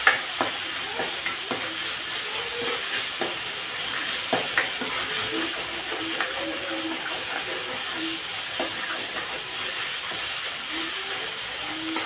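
Tomato fries in oil and spices in a pan, giving a continuous close sizzle broken by frequent scraping and stirring clicks, with no talk.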